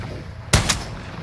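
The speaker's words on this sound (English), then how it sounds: "Allied cluster strike, inbound." A single sharp blast from an artillery cluster strike in a shooter video game, followed a beat later by a second, smaller impact, both brief and loud against a quiet hum.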